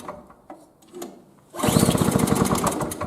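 A 2003 Murray snow blower engine, on full choke with no primer, catches after a pull start and runs loud and steady with a rapid chugging pulse, following a few faint knocks from the pull attempt.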